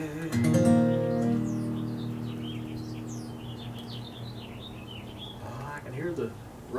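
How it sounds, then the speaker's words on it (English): Several robins chirp and sing faintly in the background, with a brief burst of harmonic speech-like sound near the start. "Hear the robins singing in the background."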